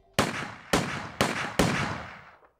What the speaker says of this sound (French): Quatre coups de feu claquent.